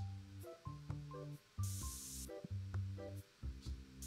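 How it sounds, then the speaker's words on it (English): A spray can hisses in the card-shop video game TCG Card Shop Simulator, a bright sustained burst of about half a second midway through, set against looping game music with steady chords. "Spray."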